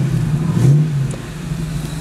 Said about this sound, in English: I'm going to take you for a ride in a 2001 Ford Mustang Roush